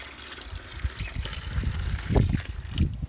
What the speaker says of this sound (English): we literally fill that with water.